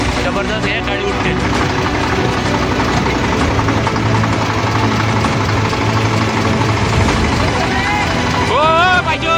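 An overloaded tractor hauling sugarcane toward a sugar factory gives a loud, steady engine rumble with a rough, knocking edge that runs throughout, while people talk over it.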